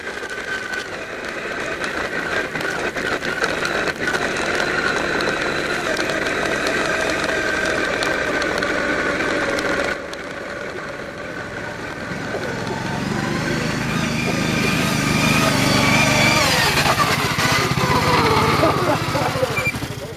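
Cornell SAE Baja off-road vehicle engine droning and revving as it drives slowly over rough, muddy terrain, a steady mid-loud buzz that rises and grows heavier toward the end, with a brief voice near the start.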